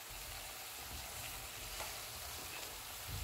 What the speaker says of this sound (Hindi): पकौड़ों को फ्राई करते हुए हम चूल्हे को लो टू मीडियम रखेंगे